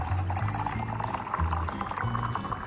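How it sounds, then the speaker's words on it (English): Water is poured into a container: a short, close, gurgling trickle with bubbling pitch changes, alone with no talk. "Pouring of water."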